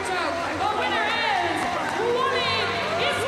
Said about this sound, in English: The crowd doesn't seem real excited.